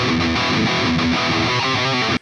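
A distorted electric guitar plays a main riff, with a loud, driving run of chugging notes that stops abruptly at the end.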